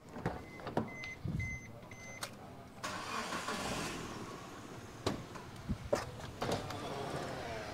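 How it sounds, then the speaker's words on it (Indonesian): A 2013 Suzuki Ertiga engine running smoothly, a steady mid-level hum with a few sharp clicks and knocks over it, no talking. "Suara mesin halus,"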